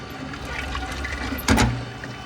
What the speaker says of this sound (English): we're gonna hit our valve, put some oil in there.